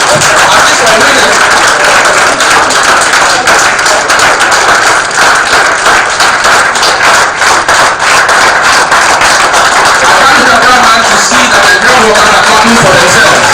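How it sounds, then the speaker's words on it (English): Sustained applause from a conference audience at a medical professionalism event, many hands clapping in a thick, unbroken patter that keeps going at a loud, even level throughout. "Please keep clapping, keep clapping."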